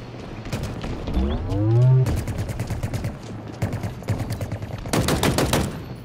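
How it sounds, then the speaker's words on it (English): Bursts of enemy gunfire in a video game, rapid automatic volleys coming in repeated clusters, loud and close, with a low game tone and musical swell beneath and no talk. "They are all going to shoot at me."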